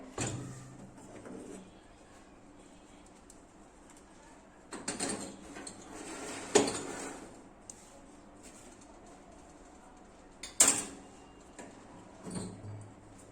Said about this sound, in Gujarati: હવે આપણે ઓવન ખોલીને મૂકી દઈશું બેક કરવા માટે